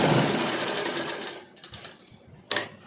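A sewing machine stitching cloth for palazzo pants, a fast whirring run that slows and stops, then a short burst of stitching near the end.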